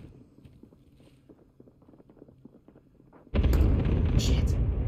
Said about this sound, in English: Delayed explosions.